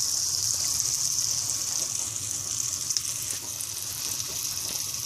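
Butter with a little oil melts in a frying pan, giving a steady, close, continuous sizzle with fine crackling that holds evenly throughout. No voices.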